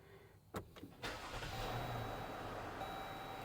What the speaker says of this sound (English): Time to crank it up.